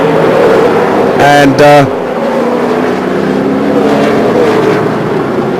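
Speedcar stock cars race around the track at a 2008 series round in the UAE, a steady loud engine drone with a brief higher-pitched whine as a car passes near, under a commentator's voice.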